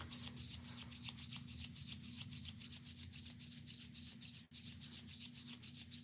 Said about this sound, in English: I like to rub it until my hands are warm.